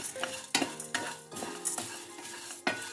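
A spoon stirs and scrapes through dry-roasting moringa leaves, curry leaves and spices in a pan, giving rhythmic metallic scrapes with a light sizzle underneath, close and fairly soft.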